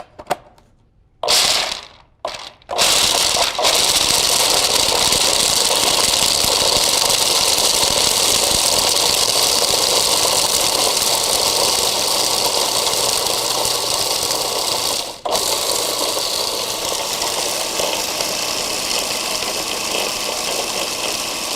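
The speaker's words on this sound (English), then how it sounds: "We're going to go ahead and grind this up." A kitchen food processor grinds crumbly plant-food ingredients with about half a teaspoon of vanilla, a loud steady motor whir that kicks on after a few brief pulses and runs continuously, with one momentary dip near the end.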